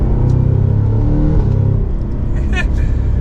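A 2023 Cadillac CT5-V Blackwing sedan's exhaust rumbles low and steady while driving, heard from inside the cabin, the drone easing slightly partway through.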